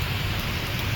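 Heavy rain pours down in a dense, even hiss with a low rumble underneath, steady and unbroken throughout the brief moment.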